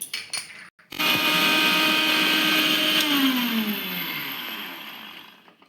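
An electric blender grinds cashew nuts and cardamom into a paste, starting after a few clicks and running as a loud steady whir that slowly winds down toward the end.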